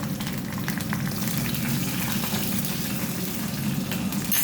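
Green chillies hitting hot oil for tomato saaru, a steady dense sizzle and crackle that runs evenly through the whole stretch, close and fairly loud, with no voices.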